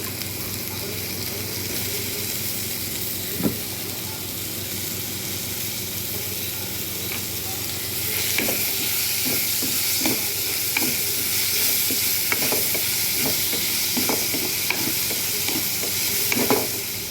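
Tomatoes fry in a pan with onion, ginger and garlic for a fish and drumstick curry. The pan sizzles steadily and close, with occasional stirring clinks and scrapes that grow busier in the second half.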